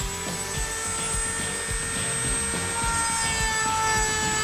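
Dremel rotary tool running a high-speed cutter accessory at a mid-to-high speed setting; a constant high-pitched whine with a steady tonal drone and faint irregular ticking underneath, close and unbroken throughout.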